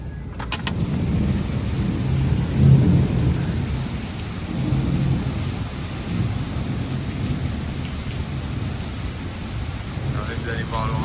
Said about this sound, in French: Arrête d'aller voir l'orage là.